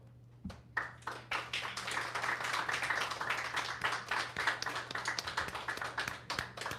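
Steady, rhythmic clapping from a small crowd at an AEW post-show media scrum in Vancouver, honouring Women's World Champion Thekla, close and continuous for several seconds over a low hum.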